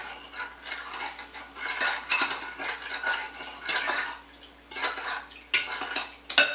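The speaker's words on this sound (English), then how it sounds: "let's stir in that honey" A spoon stirs honey into homemade elderberry syrup with cinnamon and cloves in a pot, giving repeated close metallic scrapes and soft clinks against the pot, alone with no talk.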